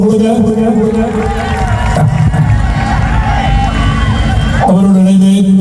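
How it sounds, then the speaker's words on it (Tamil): A large concert audience at a Vavuniya temple event claps for the bass guitarist: loud, dense, continuous applause and crowd noise over music. "இவருக்கும் ஒரு பலமான வளமான கரகோஷம் கொடுங்க."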